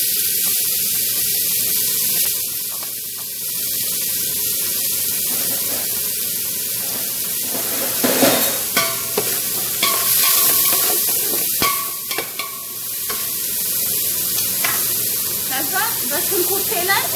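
Chopped onions fry in a little oil in a pan for a chickpea chicken rice dish, giving a loud, continuous sizzling hiss with occasional clinks and stirring noises.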